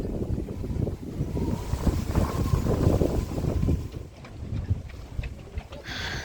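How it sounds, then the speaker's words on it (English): Wind gusts blow steadily around a boat moored near Escondido, buffeting the microphone with rough, fluctuating rushes that ease slightly toward the end. "Looks like we made it back right as the wind is ramping up here in Escondido."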